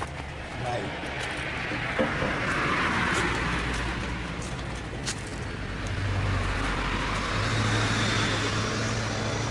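An agricultural vehicle drives past on a road in Japan, a steady engine rumble and tyre noise building and then easing over several seconds, with people talking nearby.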